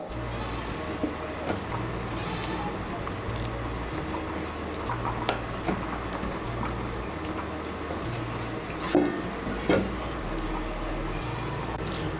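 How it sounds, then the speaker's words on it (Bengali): Thin Bengali fish curry broth bubbling on the stove as pieces of fried fish are added: a continuous close simmering hiss with soft gurgles and a few light splashes and clinks, no talk. "এই দেখুন ঝোলটা ফুটে উঠেছে, এখন এর মধ্যে দিয়ে দেবো ভেজে রাখা মাছগুলো"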